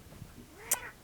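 A cat indoors gives one short, sharp meow close by, standing out briefly over quiet room noise.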